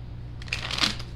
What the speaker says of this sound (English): They want me to shuffle.